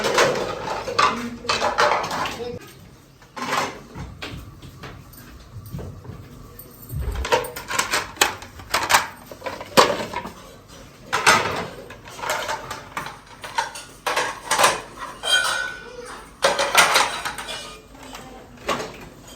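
Steel plates and utensils clatter and clink as they are stacked and arranged in a village room setting, with repeated sharp metallic knocks and scrapes at close range through most of the span, no speech.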